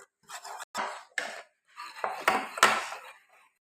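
Chilli powder and salt being mixed into flour in a bowl with a spoon, giving a series of short clinking scrapes and rubs, close and distinct against silence.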